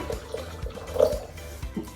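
Alkaline water is poured into a blender over almonds, making a gurgling, splashing pour with a few soft knocks, fairly quiet and close.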